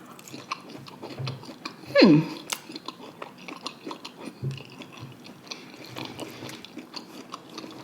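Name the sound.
chewing roasted Brussels sprouts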